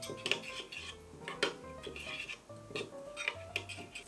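Garlic, chili powder and sesame oil seasoning being stirred in a bowl, a spoon clinking and scraping against the dish in several quick, close bursts with soft rubbing between.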